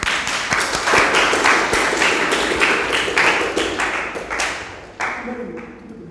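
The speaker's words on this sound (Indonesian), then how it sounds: "Tepuk tangan untuk kelompok 1 ya." Classroom applause for a student group after their presentation, a crowd of pupils clapping steadily for several seconds before it thins out and stops, with murmuring voices beneath.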